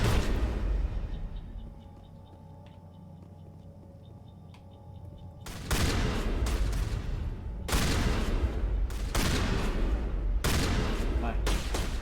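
Shotgun blasts in Mass Effect 1 close-quarters combat: after a quieter stretch, a rapid run of loud, sharp broadband shots and bursts in clusters, heavy and close, overlapping one another.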